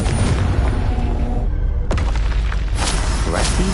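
The Confringo fire spell from Hogwarts Legacy goes off as a loud, close boom, with a sharp blast near the middle over a constant dense rumble.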